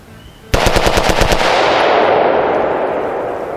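An AR-15 rifle built on a StarLos SLF 15 polymer lower is bump fired in a fast burst of roughly ten loud, close shots lasting under a second, followed by a long echoing outdoor reverberation that slowly fades.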